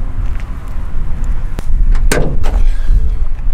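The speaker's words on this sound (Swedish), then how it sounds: "Öppna motorhuven." A loud mechanical clunk and creak as the hood of a 1987 Ford Fiesta with a one-litre engine is released and lifted, with a sharp click, over steady outdoor background noise.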